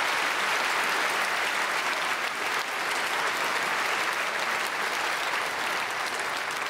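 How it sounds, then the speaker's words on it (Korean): A church congregation applauds during a Sunday worship service, a dense, steady wash of clapping that fills the whole stretch without pause, loud and even, dipping slightly midway before carrying on. "박수하겠습니다."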